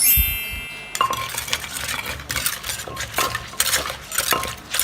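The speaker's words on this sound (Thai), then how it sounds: "ตำส่วนผสมให้เข้ากันก่อนนะคะ" Som tam ingredients are pounded in a mortar with a pestle, producing repeated sharp knocks and clinks at an uneven, steady pace, close and clear with no voices.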